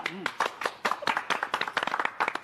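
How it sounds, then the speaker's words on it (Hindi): A small group claps after a ribbon-cutting in a comic household scene, with sparse, uneven hand claps close by under a voice that speaks over them. "भाई तालियां।"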